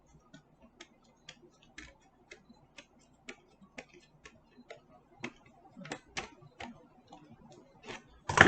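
Scissors cutting around a heated vinyl record, heard as evenly spaced sharp ticking snips that grow louder and more frequent toward the end, with faint low noises between them.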